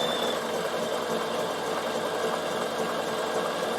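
A Bernina sewing machine stitching around a curve on wool appliqué hums with a steady, even mechanical whir, close and continuous without pause.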